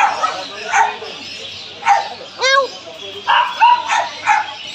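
A puppy yips and whimpers in short high bursts, with people talking nearby throughout.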